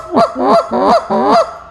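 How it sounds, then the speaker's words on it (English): A frequency goose call blown by hand gives four deep, clipped honks in a steady rhythm, close and loud with nothing else around them. "this is a frequency goose call"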